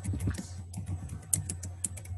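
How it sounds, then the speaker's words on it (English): Rapid, uneven key clicks from a computer keyboard being typed on, close and fairly steady over a low background hum, with no voices. "here's someone typing."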